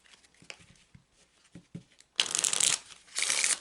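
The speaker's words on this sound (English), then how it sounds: "I'm going to take a few moments to shuffle the cards" Kipper cards, a tarot-style oracle deck, shuffled at close range in two loud riffling bursts that follow a stretch of quieter handling and card taps, with no talking.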